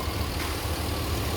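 A 2003 Chevy 1500 crew cab truck engine idles quietly and steadily, a low, even rumble with no talk.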